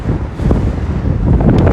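Blustery wind buffets the microphone on a hilltop above a park and railway line, a loud, close, low rumble that holds steady throughout with no voices.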